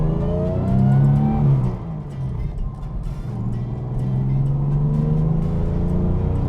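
A 1962 Jaguar E-type 3.8 liter Series 1 coupe drives past on a twisty road, its engine revving loudly up and down through gear changes with a strong, sustained exhaust note and no talk.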